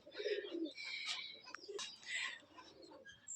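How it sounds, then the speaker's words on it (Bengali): Red beauty (lal sundori) pigeons kept at a house coo softly in several low, throaty bursts, and thin chirps sound in between, all fairly faint and close. "ভাই লাল সুন্দরী কবুতরগুলো দেখান।"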